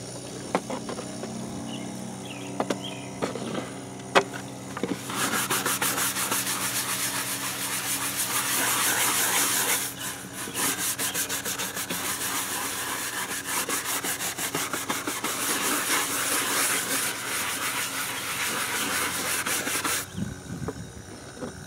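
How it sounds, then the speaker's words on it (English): Oak wood with burned Lichtenberg figures is scrubbed after rinsing, a steady, close, harsh brushing rasp that runs continuously for most of the span after a few quiet knocks, with no one talking. "Now we need to rinse it and scrub it"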